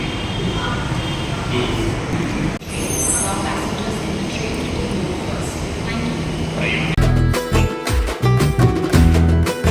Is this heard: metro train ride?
yes